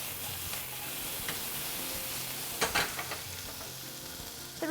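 Red onion sizzling and frying in hot olive oil in a pan, a steady close crackling hiss with a few brief clatters of stirring near the end, no talking.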